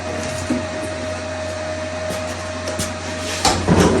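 An angle grinder grinds off a weld on the outer rocker panel of a 1969 Dodge Coronet, a loud steady whine with short scraping bursts near the end.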